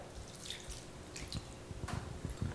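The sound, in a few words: red wine poured over London broil meat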